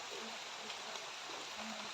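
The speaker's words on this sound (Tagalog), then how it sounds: "Lakas na naman ang ulan ngayon." Heavy rain pours through a forest at night, a steady dense hiss of drops on leaves and ground with no breaks, with a faint low hum underneath.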